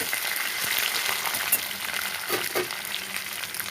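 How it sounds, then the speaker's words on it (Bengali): Fried vegetables for Bengali sukto being tipped into tempered spices in a pan and stirred, a close, steady sizzle with occasional soft scraping and clinks from the stirring, no voices. "ভেজে রাখা সবজিগুলো আমি সব দিয়ে দেবো। দিয়ে ভালো করে নেড়ে চেড়ে দেবো।"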